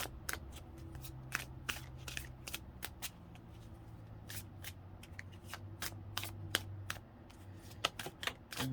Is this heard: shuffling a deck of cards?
yes